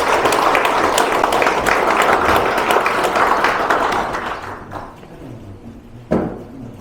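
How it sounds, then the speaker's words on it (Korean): A crowd at an inauguration ceremony applauds with dense, sustained clapping that gradually thins and fades out, followed by a single thump near the end. "여러분 박수를 많이 치실수록"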